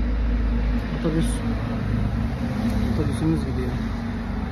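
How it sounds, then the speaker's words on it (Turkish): A city bus on a 500-series route pulls away on a street, its engine rumble steady and moderately loud through the clip, with someone talking over it. "Otobüsümüz gidiyor."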